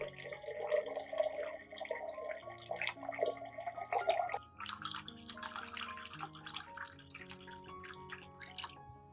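Water pours from a container into a diluted filtered solution for orchid care, a faint, continuous splashing trickle with shifting tone and no voices.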